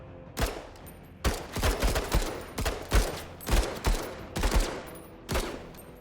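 Rifle fire in the video game MENACE, a run of about eight sharp gunshots spaced roughly half a second to a second apart, each with a short echoing tail over quiet background.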